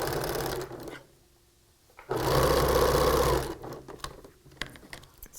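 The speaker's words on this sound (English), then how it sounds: "Start sewing." A sewing machine stitches a T-shirt quilt block in one steady, loud burst of about a second and a half, after a short pause, with no talking.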